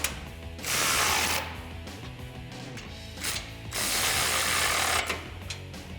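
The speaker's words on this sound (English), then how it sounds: "Now with a ratchet and 18mm socket, go ahead and tighten these bolts down." A ratchet with an 18mm socket tightens bumper bolts on a Jeep Gladiator JT, giving close, rapid clicking bursts in several separate strokes with short pauses between them.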